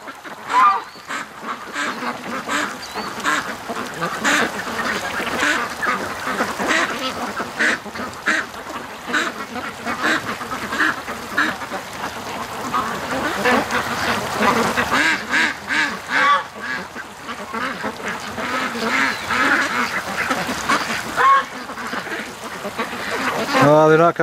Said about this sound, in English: It freaked the ducks out and they're coming back.